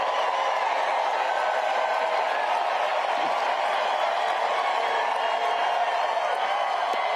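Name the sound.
crowd cheering and applauding at Harris-Walz rally in Arizona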